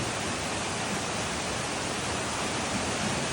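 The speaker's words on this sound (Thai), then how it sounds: "โอ้ข้างบนนี่มีน้ำตกอีกนะพี่น้อง" A waterfall at a little-known site, Tham Sai Thong, a steady unbroken roar of falling water, loud and even throughout with no other sounds.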